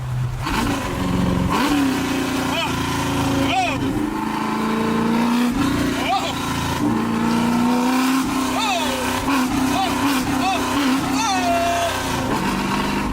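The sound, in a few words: car engine revving with no mufflers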